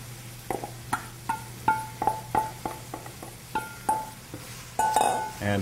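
Onions tipped into a Portuguese cataplana pan of soft cooked tomatoes make a run of about a dozen short clinks and taps, close and fairly crisp, ending in a brief louder clatter over a steady low hum.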